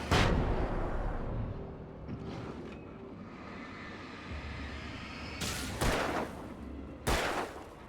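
Flashbang grenade bursting in the Alan Wake video game: a loud broadband blast at the start, then several sharp explosive cracks toward the end over a rumbling game backdrop.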